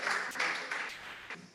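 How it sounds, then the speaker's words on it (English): An audience at a Women in Politics mentoring event breaks into a short burst of applause, with dense clapping that swells and then tapers off. "A round of applause."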